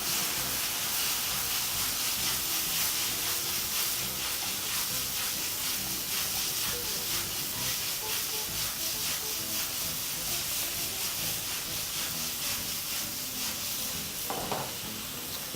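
Vegetables stir-frying over high heat in a hot pan with lemon juice and soy sauce for chicken fried rice: a loud, steady sizzle and hiss throughout, with soft stirring scrapes and no talking.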